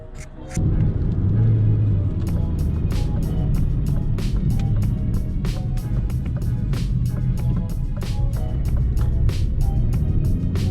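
A Citroën C4 in sport mode pulls away with a steady low engine rumble that swells and holds, heard from inside the cabin with faint ticking sounds above it.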